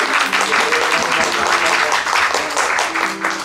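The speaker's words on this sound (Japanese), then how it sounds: "拍手。" Brisk audience clapping at a live idol concert marking Ayano's birthday at KISUKE KIT HALL, dense and even throughout the short burst, with a few voices faintly heard beneath it.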